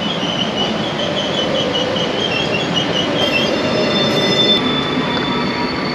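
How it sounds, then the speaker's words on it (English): A train rumbles steadily past at close range near Lake Como, Italy, wheels grinding and a high metallic squeal running throughout, loud and continuous. "That's a brute of a train, isn't it?"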